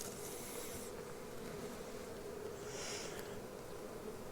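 A dense, steady swarm of honeybees buzzes close by on a hive frame, a continuous droning hum with no voices.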